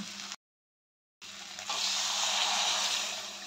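Water is poured into a pot of cooking potato and eggplant, a steady close rush and sizzle that swells after a brief gap and runs on alone.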